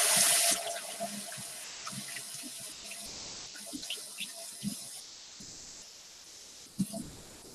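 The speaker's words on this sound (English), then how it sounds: "Washing my hands, keeping it nice and clean." Tap water runs into a sink while hands are washed, a splashing, uneven wash with scattered drips and knocks that fades toward the end, with faint talk in the background.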